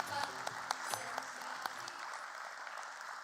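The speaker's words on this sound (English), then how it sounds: "Let's have a huge round of applause for them" An audience at a stock exchange listing ceremony gives a short, fairly faint round of applause, a few claps standing out from the steady patter.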